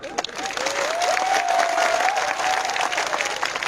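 Big rally crowd at a mass gathering in Santirbazar, Tripura, claps and cheers for Droupadi Murmu, a sustained wash of applause with a whistle or shout threading through it.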